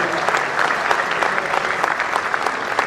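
An audience at a martyrs' day honour ceremony claps together to welcome guests, producing a dense, steady burst of applause that continues evenly throughout with no voices on top.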